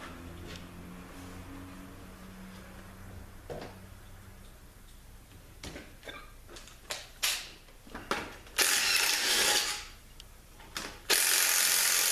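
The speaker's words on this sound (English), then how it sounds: "I'm going to get the bolts out of the pump." A ratchet works bolts out of an A540E transmission pump, sounding as a series of sharp clicking bursts and metallic rattles that grow louder and denser toward the end, close up with no voices.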